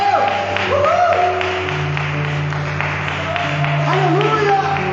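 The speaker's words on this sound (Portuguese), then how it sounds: "Vamos aplaudir Jesus." Church congregation applauding during a sermon, a dense patter of clapping under raised voices and shouts of praise, moderately loud throughout.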